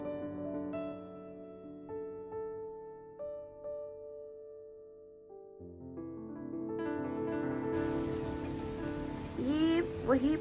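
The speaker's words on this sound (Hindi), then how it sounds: "हेवी रेनफॉल भी नहीं है, बट थोड़ी सी हो रही है।" Light rain falls beside a hotel swimming pool in Bali, a soft, steady patter mixed with sustained tonal sounds, faint and continuous throughout.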